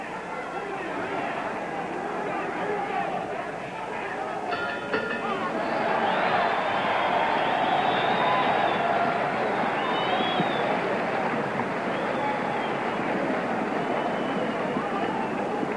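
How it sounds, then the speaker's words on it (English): A boxing arena crowd roars during round 13 of the 1966 Eddie Cotton vs Jose Torres fight in Las Vegas, a dense sustained wash of cheering that swells midway, with a commentator talking over it throughout. "Well, the crowd is roaring."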